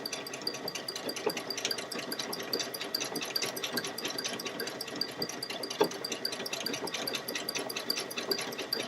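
A Baby Lock Solaris 2 sewing machine stitches fabric with a steady, rapid mechanical whir and needle patter, running continuously and fairly close throughout.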